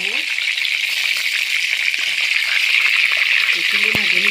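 Chicken pieces turned and frying in a pan, a steady loud hiss of sizzling oil with faint scraping and a brief clatter near the end.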